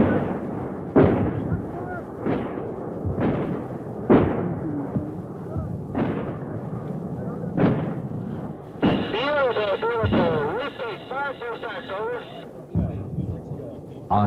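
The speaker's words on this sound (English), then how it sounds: "when artillery arrives, when it drops down Charlie's throat, it's the most beautiful" Artillery shells land on target in a battlefield barrage, a string of heavy booms arriving about every second or two, each with a sharp onset and a rumbling decay, while people talk faintly underneath.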